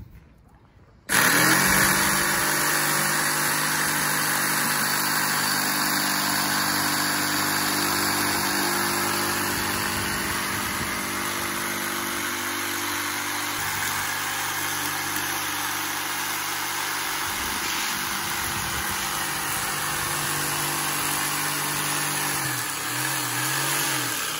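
A workshop electric saw whose blade sticks out below the table starts up and runs as a steady, even motor hum. It is loud and continuous, with no speech, while a shield is being made.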